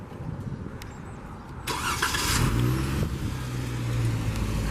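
Quiet idling hum, then a 2017 Jeep Wrangler Sahara engine cranks via remote start and catches with a sharp burst, settling into a steady rumbling idle close by.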